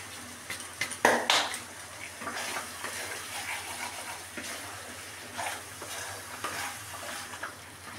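A spoon stirs and scrapes a pan of masala frying in oil with dry-roasted kasuri methi for a paneer curry, giving soft sizzling with a few sharper clinks of utensil against the pan. The sound is fairly quiet and unsteady, with no talking.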